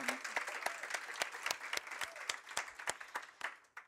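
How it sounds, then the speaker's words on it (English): Audience applause at the IWPR Power+ Summit 2024, scattered but steady clapping with distinct individual claps standing out, fairly faint overall and fading slightly near the end. "Let's give her a round of applause."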